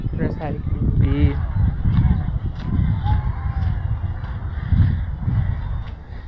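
Geese give a few loud, close honks over steady outdoor background noise at a park pond in Ontario, Canada, with quieter calls continuing through the clip.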